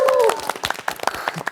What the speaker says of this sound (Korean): 여러분의 우레와 같은 박수로 시작하겠습니다